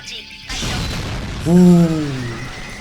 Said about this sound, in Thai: ปืนใหญ่สัตว์หางเอฟเฟกอลังการตะการตา